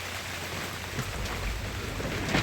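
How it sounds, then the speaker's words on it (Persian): Steady rain with gusting wind on a cold, stormy day where a homeless mother shelters under plastic, a dense continuous hiss with low rumbling gusts swelling slightly toward the end, no voices. "صدای باد صدای بارون"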